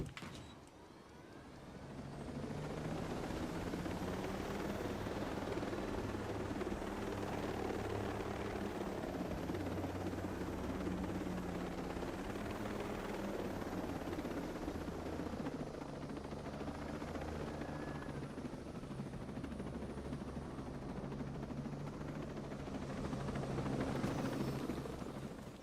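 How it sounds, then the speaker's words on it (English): Steady helicopter in Ghost Recon Breakpoint, a loud continuous rotor drone with whining turbine tones holding throughout, close and unbroken, with no talk. "I wanted my chopper back. It's got guns."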